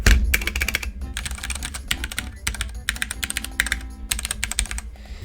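Rapid typing on a keyboard with Cherry MX Silver linear switches, close and clear, with dense bursts of key clacks broken by short pauses.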